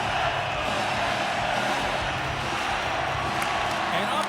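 Dense, steady roar of a hockey arena crowd in the video game NHL 25 during a tied playoff game between the Toronto Maple Leafs and New York Rangers, continuous and loud, with faint higher shouts over the wash.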